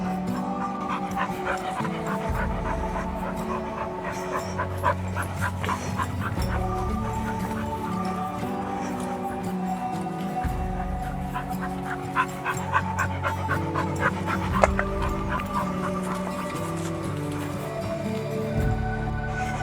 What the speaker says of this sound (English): Somewhere ahead is a little black and white spaniel. Actually, I can hear him in there somewhere.